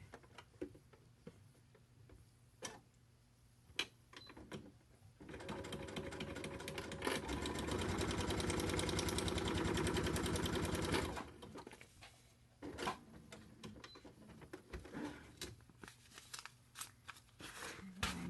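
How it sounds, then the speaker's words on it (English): Sewing machine stitching a paper-pieced heart block, a steady run of rapid needle strokes lasting several seconds in the middle, with quieter handling clicks and rustles before and after. "Sew that piece together."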